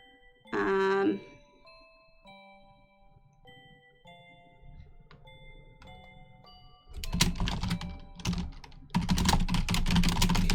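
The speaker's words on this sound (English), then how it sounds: "I'm kind of just typing as I go" Typing on a computer keyboard, a rapid clatter of keystrokes in bursts after a stretch of soft chiming tones.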